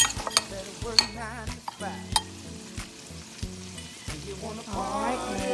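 Shredded cabbage cole slaw is tossed and stirred in a bowl with quick, wet, crunchy mixing strokes that come and go, heard over soft background music.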